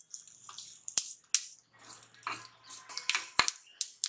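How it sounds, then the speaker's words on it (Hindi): Mustard seeds and sesame seeds roasting in a hot pan, giving scattered sharp crackles and pops of varying loudness over a soft sizzle, close by with no talk. "इसे अच्छे से भून देते हैं, अच्छे से क्रैकल होने दें"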